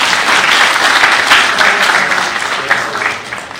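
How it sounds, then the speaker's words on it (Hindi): Dense, steady audience applause at a public gathering in Indore, with many hands clapping together continuously and fairly loudly for the whole stretch and no voices over it. "तो उनके लिए ताली बहन।"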